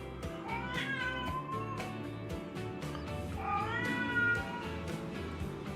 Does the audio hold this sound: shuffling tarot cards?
no